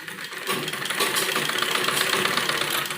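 A sewing machine stitches along the edge of buckram on an embroidered suit lining, running as a steady, close, continuous mechanical whir for the whole stretch.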